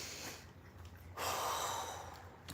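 A single slow, breathy exhale comes in partway through and is held steady for over a second before fading. It is close and fairly quiet, with faint breathing before it and no speech.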